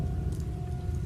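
Rain in a Gacha animation, a steady fine patter of falling drops that holds evenly throughout, with a faint steady tone running underneath and no voices.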